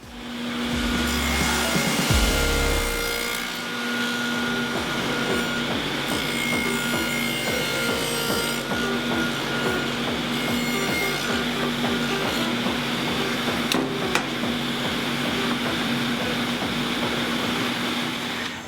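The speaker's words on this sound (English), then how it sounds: "I'm just kind of cheating using a dado set because it makes it a lot quicker." Table saw fitted with a dado set cutting a groove in wood for a go-kart frame, a steady loud whining drone running throughout after a brief start-up, with no talking.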